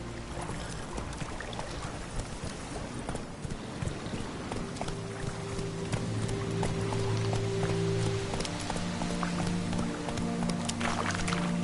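Horse hooves clip-clop at a steady gallop in The Witcher 3 on PS4, a continuous rhythmic pounding over a bed of ambient game sound and a low sustained musical tone.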